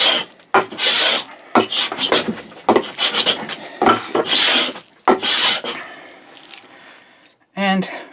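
A Melbourne Tool Co. cabinet scraper rasps across wood in a series of loud, rhythmic strokes separated by short pauses, ending with a brief click.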